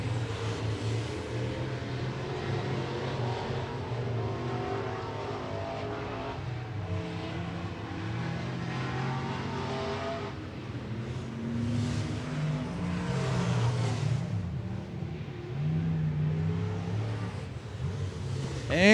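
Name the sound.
street stock race cars on final qualifying lap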